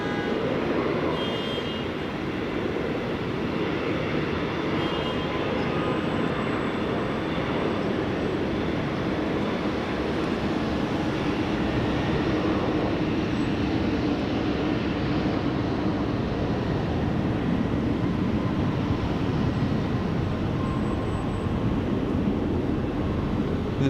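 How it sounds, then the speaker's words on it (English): A Qantas Boeing 737 jet departs Sydney Airport, a steady broadband roar that holds at a constant level for the whole stretch, with no voices over it. "there's a Qantas 737 departing here now"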